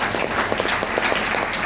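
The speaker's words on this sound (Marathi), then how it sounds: "त्या सगळ्या अचीव्हर लोकांसाठी एक जोरदार टाळ्या." An audience at an achievers' celebration and seminar in Virar claps steadily, a dense, even burst of applause from a crowd without talk.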